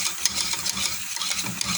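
Butter and milk sauce stirred in a pan for a minced-meat and potato gratin, a steady soft scraping and swishing with faint bubbling, close and continuous with no talk.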